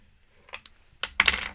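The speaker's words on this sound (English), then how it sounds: "I always use the my little baby acrylic block here to hold that down and then tear against it" Craft tape being torn against a small acrylic block: a few soft ticks, then a short, crisp ripping burst close to the mic.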